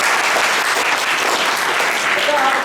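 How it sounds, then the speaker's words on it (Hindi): Seminar audience at a road construction event clapping loudly and steadily, a dense unbroken patter of many hands with a faint voice in the background. "इस तालियां थोड़ा बजाइए, तालियां"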